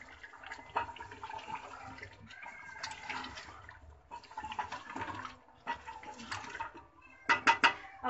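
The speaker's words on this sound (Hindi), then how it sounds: "ये 2 गिलास जितना पानी हमने इसमें डाल दिया है।" About two glasses of water splash into a pot of simmering beef and potato curry in uneven, close pouring surges, ending with a few quick metallic clinks of a pot or utensil.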